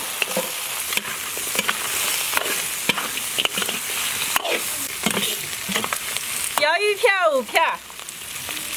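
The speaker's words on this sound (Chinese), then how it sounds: "炒出红油以后，下入猪蹄儿" Pork trotters stir-fried in oil with dried chili and Sichuan pepper, a loud continuous sizzle with spatula scrapes and clacks, and a voice briefly speaking near the end.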